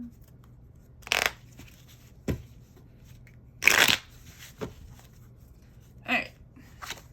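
Playing cards being shuffled in several short, crisp riffling bursts spaced a second or two apart, close and fairly quiet over a low steady hum.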